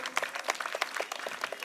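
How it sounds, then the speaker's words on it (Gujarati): Audience applause at a school Independence Day function, a steady patter of many hands clapping together, fairly faint and distant with no talk over it. "સાજીમા, જોરદાર તાળીઓથી આપણે અભિવાદનને વધારશું."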